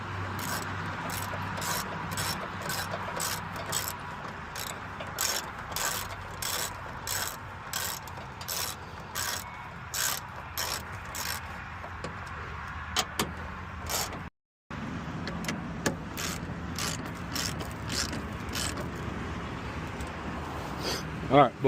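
A hand ratchet clicks rapidly and steadily at close range, tightening the bolts on a 2015 Chevy 2500 headlight assembly, with one brief silent gap before the clicking resumes, and someone talks over it.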